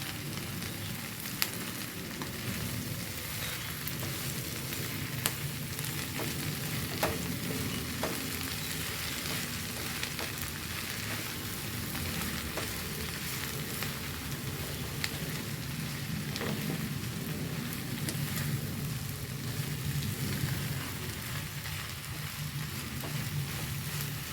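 Drumstick leaf stir-fry sizzling in a pan, a steady crackling hiss with faint scattered stirring taps, even and continuous throughout.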